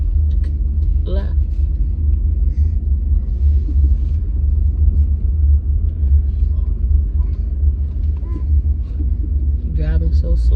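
A car driving slowly: a loud, steady, low engine and road rumble that continues without a break, with a few brief voices over it.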